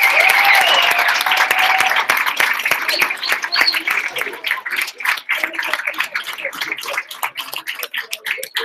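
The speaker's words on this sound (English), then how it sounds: "let's give another round of applause to all of our class 20 fellows" A service celebration audience claps for its class fellows, loud and full at first, then thinning into scattered individual claps as the applause tapers off.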